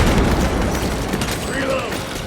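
Krak grenade detonating in Warhammer 40,000: Space Marine 2, a short, loud, rumbling blast that fills the moment and fades slightly, mixed with battle noise and soldiers' voices.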